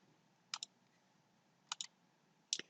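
Keyboard keys pressed for a Control S save shortcut, heard as three separate pairs of crisp, close clicks spaced about a second apart over a quiet background hum.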